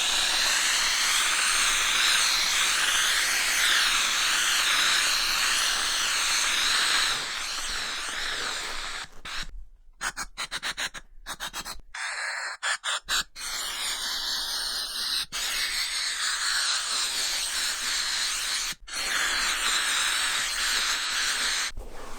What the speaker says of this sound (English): Now we're going to use this other steaming attachment on this chair where I have some powder that is sort of sunk into the